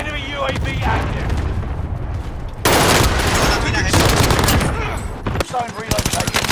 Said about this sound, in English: Shots over here.